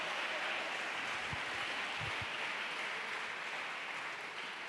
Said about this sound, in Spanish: si hay algún paseño aquí, que le dé palmas al Señor